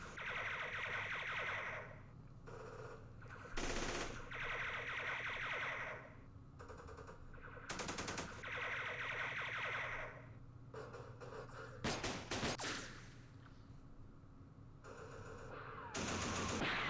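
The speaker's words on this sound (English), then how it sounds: "And the usual exchanging fire here." Gunfire trades back and forth in a Vietnam War battle at Dak To in Campaign Series Vietnam. Long machine-gun bursts repeat in a steady rhythm, broken by loud single cracks and short pauses.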